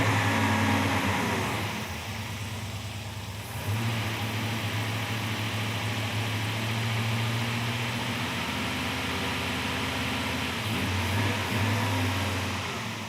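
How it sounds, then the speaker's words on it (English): Engine of a Chevy gasser running steadily with a deep, rumbling idle while the carburetor accelerator is pumped, giving mild surges in level, close and continuous with no talk. "What he's doing is using up gas in the bowl by hitting the squirter a bunch of times"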